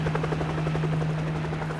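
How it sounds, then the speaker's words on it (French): Radio drama helicopter taking off, a constant rotor whir and turbine hum with rhythmic blade chopping, steady and fairly loud throughout with no voices. "L'hélico décolle, il arrive au-dessus du village."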